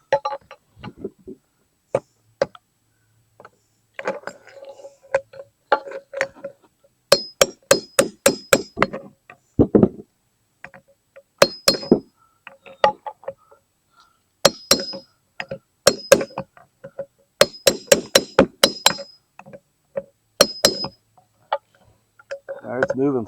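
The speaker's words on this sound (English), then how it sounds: "use like a chisel or something, just start wailing away at it" Metal chisel hammered against a Toyota Tundra driveshaft center support bearing, a loud series of sharp, ringing metallic clinks in irregular bursts of rapid strikes with short pauses between.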